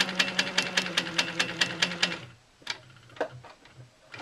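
A sewing machine stitches in the ditch on a quilt block, its needle tapping in a fast, even run of about a dozen beats before stopping, followed by a few scattered handling clicks.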